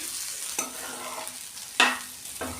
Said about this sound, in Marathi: भेंडी आपल्याला अधूनमधून पलटी करत राहायची जेणेकरून खालच्या साईडला ती जळणार नाही